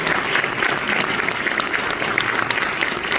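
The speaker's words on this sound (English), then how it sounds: "please, let's take a moment, give him a big round of applause" A crowd at a political address in Chicago applauds steadily and densely. The clapping stays close and even throughout the short stretch, with no talk over it.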